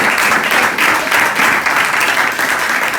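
Steady, dense applause from a church congregation at a Sunday service fills the space, the clapping sustained and loud without a break.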